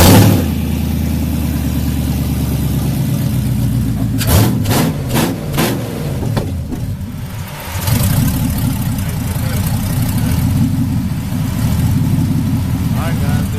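A truck engine in a shop cranks over and fires on its first start, then settles into a loud, steady, rumbling idle with a few uneven surges, close up.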